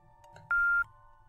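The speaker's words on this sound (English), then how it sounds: "It was the sound of a text notification." A phone text notification chimes once, a short clear electronic tone that is loud and close, set against a low hum.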